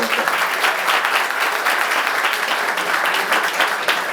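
Sustained audience applause fills a college road safety awareness event hall, dense steady clapping from a large crowd lasting several seconds with no talk over it.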